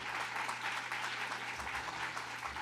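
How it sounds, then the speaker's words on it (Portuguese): A church congregation claps together in steady, dense applause that fills the short stretch at an even level, with no voices standing out. "aplauda Jesus pela sua vida."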